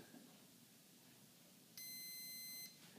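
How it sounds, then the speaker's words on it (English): A Dualsky Hornet electronic speed controller emits a single steady, tonal electronic beep lasting nearly a second after being plugged in, clear and alone over faint background hiss. "Plug it in your Hornet, it'll beep."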